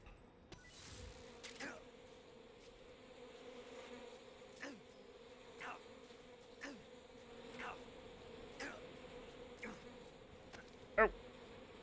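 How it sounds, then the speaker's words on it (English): Bees buzz in a continuous low drone in the Metal Gear Solid Delta: Snake Eater video game. The buzz is faint and steady, broken by soft regular ticks and one sharp click near the end. "I hear the bees."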